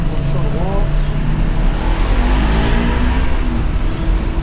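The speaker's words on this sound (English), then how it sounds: "Watch out for this car here." A car passes close on a city street, its engine and tire noise swelling and fading amid steady traffic rumble, with brief voices underneath.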